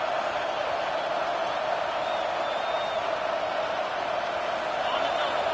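A home crowd at a Razorback football game roars steadily on a third down, a dense, sustained wall of cheering and whooping from a large stadium throughout.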